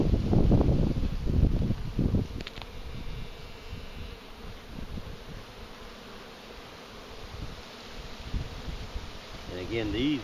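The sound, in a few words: bees buzzing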